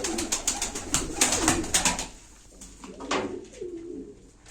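Pigeons coo in repeated soft, throaty phrases close by, with a burst of sharp wing claps or flutters early on, then a few calmer coos alone.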